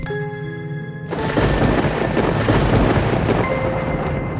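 A lightning strike sets off a loud, sustained roar of thunder that suddenly breaks in over soft music and rumbles on steadily to the end.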